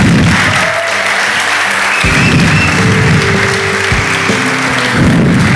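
A seated audience at a Valladolid talk event claps for a guest, loud sustained applause filling the room, with a few tonal sounds that may be voices or music mixed in.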